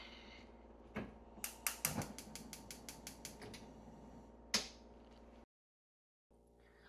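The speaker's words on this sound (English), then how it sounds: "And this is the gas stove." A gas stove knob in a Shanghai middle-class home is turned, giving a quick series of sharp, close igniter clicks in a regular rhythm, followed by a louder snap and a brief silence.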